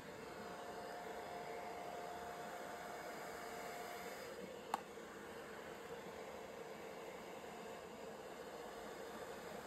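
A blow dryer drying hair gives a steady, even airy roar throughout, close and unbroken, with one brief click near the middle.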